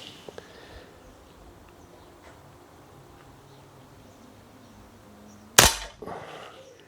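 A single sharp shot from a Weihrauch HW40 PCA .177 air pistol cracks loudly near the end, following quiet room noise and a couple of soft clicks.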